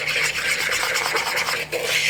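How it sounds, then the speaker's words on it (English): A whisk scraping through coconut flour, confectioner's sweetener and baking powder in a bowl, giving a close, steady brushing rasp with a brief pause near the end. "you just want to whisk all these ingredients together"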